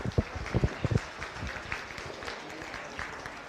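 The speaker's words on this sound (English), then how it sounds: "Let's give them a nice round of applause," Audience at a county beef cattle show claps in a moderate round of applause, with a few louder close hand claps at first settling into a softer scattered patter under murmuring crowd noise.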